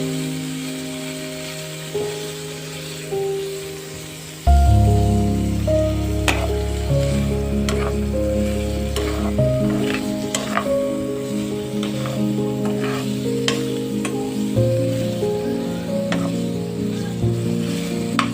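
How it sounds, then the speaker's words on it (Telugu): Paneer fries in a pan toward golden brown: a quiet hum gives way to a sudden loud sizzle as it hits the oil, then a sustained hiss with scattered stirring clicks and scrapes, close and unaccompanied by talk. "పన్నీర్ గోల్డెన్ బ్రౌన్ కలర్ వచ్చే వరకు వేయించుకోవాలి."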